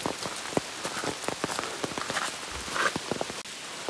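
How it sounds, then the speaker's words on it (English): Steady rain patters down on surfaces close by on a path at Vintgar Gorge, Slovenia, with individual drops tapping irregularly throughout and no voices. "But it is really raining now."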